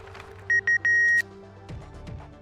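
A phone rings in the Library of Ruina video game, three short electronic trills in quick succession over quiet background music, clear and close.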